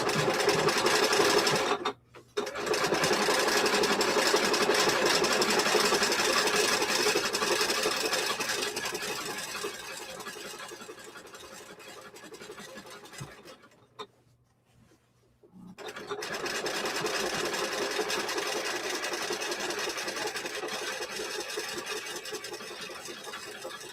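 A sewing machine stitches down a wavy vest in a long, steady, close run of whirring stitches, broken by two short stops partway through.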